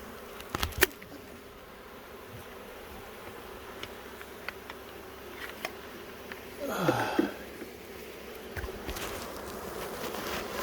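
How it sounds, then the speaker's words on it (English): Honeybees buzz around an open beehive during an inspection, a soft continuous drone with a louder burst of close buzzing midway, plus occasional bumps and handling noises. "It's just all bees all over the place."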